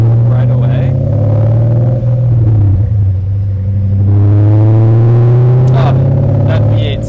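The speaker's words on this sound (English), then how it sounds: "Oh, that V8 sounds so good." A BMW E39 M5's V8 rumbles steadily from inside the car under light throttle, its deep tone swelling slightly midway as the engine pulls.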